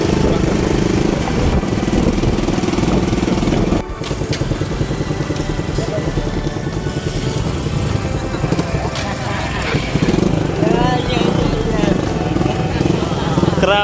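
A motorcycle engine runs steadily nearby, throbbing under people talking and dipping briefly partway through before carrying on.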